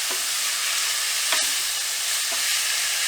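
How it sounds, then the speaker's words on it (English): Minced beef frying in a pan while it is stirred: a loud, steady sizzle with a few soft scraping strokes of the utensil, and no talking. "I'm going to keep that moving and mix that all together so that everything starts to cook"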